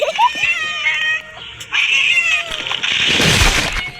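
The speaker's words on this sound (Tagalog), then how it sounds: "Nagulat ako sa pusa." A cat meows in a video game: a short, loud, rising cry, then a drawn-out yowl, followed by a burst of noisy in-game sound.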